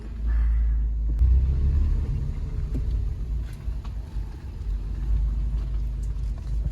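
A car is driven and turned around near a school, with a low steady engine rumble and road noise close by that swells slightly in places as it moves.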